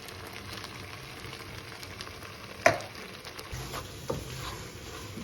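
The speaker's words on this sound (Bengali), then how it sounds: "বিনসটা দেওয়ার পর এখন আমি চ্যাম্পিয়নেরটা মানে মাশরুমটা দিয়ে দিচ্ছি।" Mushrooms go into a pan of beans already frying, giving a steady, soft sizzle with a couple of sharp clatters as they land and get stirred, near and moderately quiet with no talking.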